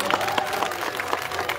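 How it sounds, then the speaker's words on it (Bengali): Audience applause at the opening ceremony of National Library Day 2025, a dense, steady patter of many hands clapping close by with faint crowd voices underneath, running the whole time. "জোরে করতালি দিয়ে স্বাগত জানাই"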